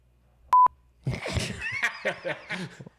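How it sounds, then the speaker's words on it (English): A short, loud electronic censor beep sounds once, followed by a burst of laughter and excited chatter from a few people. "Is that really a bleep? You can censor it"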